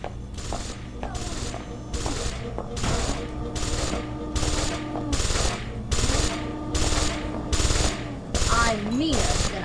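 Sustained automatic gunfire from an enemy in the video game Deus Ex Invisible War, rapid repeated bursts in a steady rhythm, loud and continuous over game sounds and music tones.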